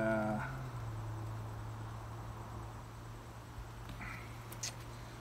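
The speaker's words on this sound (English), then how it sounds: "There's so many bees in here I can't even get in." Honey bees in a crowded hive with a deep and a medium box, going into winter, give off a steady low drone that holds evenly throughout, with a few faint higher chirps and rustles near the end.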